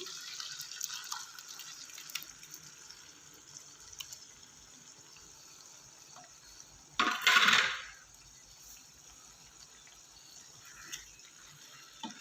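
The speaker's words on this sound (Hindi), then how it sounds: "पानी भी जो इसमें थोड़ा सा था वो भी मैंने इसमें शामिल कर दिया है" Boiled turnips and their cooking water are poured into a pan of gravy in a home kitchen, a short splashing pour amid quiet clinks, with no one speaking.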